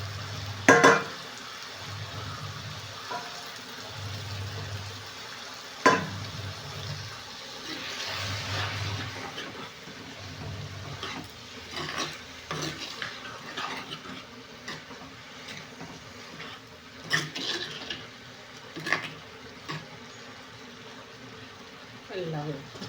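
Vegetables sizzle and fry in a pan while salt and cut tomato are stirred in, soft frying hiss with intermittent scraping and clanks of the spoon, a voice talking over it.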